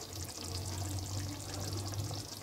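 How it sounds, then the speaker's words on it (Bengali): Cumin powder mixed in oil being added to a pan while rui fish kalia cooks, producing a steady, close hissing sizzle that holds at an even level throughout. "এবার আমি তেলে নেওয়া জিরা পাউডার দিয়ে দিব"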